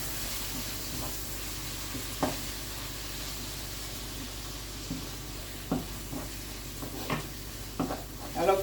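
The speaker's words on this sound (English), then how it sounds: "And then we stir." Ackee and salt mackerel with tomato sizzle steadily in a pot while being stirred, with a constant close frying hiss and a few soft scraping knocks from the stirring utensil.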